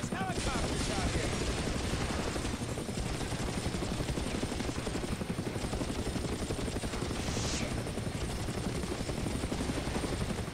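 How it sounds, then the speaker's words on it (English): Helicopter rotor thumping steadily and loudly throughout in the video game Far Cry Instincts, with dense gunfire and action noise layered underneath. "Who the hell has helicopters out here?"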